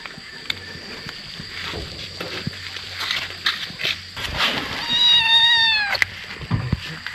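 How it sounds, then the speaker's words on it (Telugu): A wild cat cub on a Tadoba tiger reserve safari gives a drawn-out, rising-and-falling meow near the end, fairly close, over rustling and light outdoor noise. "Wild cat కబ్బు, wild cat baby."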